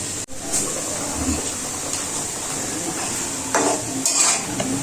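A spoon stirs and clinks against a wok of fish gravy being readied for ridge gourd, with scattered metallic taps and scrapes over a steady low sizzle.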